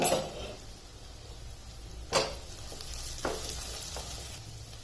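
Onions with a pinch of salt sizzle quietly and steadily in a hot kadhai, with a few soft scrapes and clinks of stirring.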